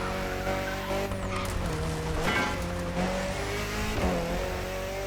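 Engine and exhaust of a car in the racing video game The Crew Motorfest rev and shift through gears, with tire squeal and skidding mixed in, at a moderate level and with no talking.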